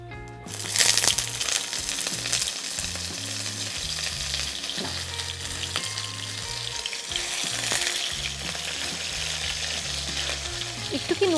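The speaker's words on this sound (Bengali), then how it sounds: "এই তেলটা ছিটছে" Potatoes fry and spatter in hot oil with five-spice for a Bengali vegetarian dish, making a steady, close crackle with a rougher burst near the start. Low music plays beneath the sizzle.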